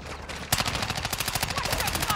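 A single sharp shot followed by a steady, rapid automatic burst in a shooter video game, fairly close and continuous for about two seconds.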